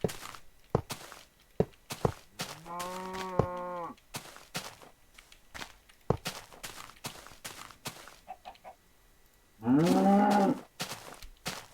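A cow in the Minecraft video game gives two separate synthetic moos among scattered footstep thuds and clunky game noises, with a quiet background between the sounds.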